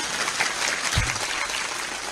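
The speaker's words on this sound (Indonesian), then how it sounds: "Oh tepuk tangan rapopo sing banter." A crowd at a talk on Javanese history claps loudly and continuously, a thick, even rattle of many hands with a single low thump near the middle.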